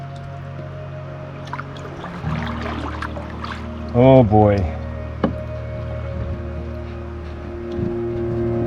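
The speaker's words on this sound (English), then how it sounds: "That's a lot of water flowing over that." River water pouring over fallen trees in a wild forest setting, a steady broadband rushing that continues throughout, briefly interrupted by a short spoken exclamation near the middle.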